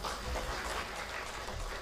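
A hall audience at the installation ceremony of the Palembang city KONI sports committee applauds the mayor. The clapping is faint and distant, a continuous wash that lasts under two seconds.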